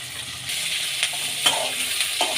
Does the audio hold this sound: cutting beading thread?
no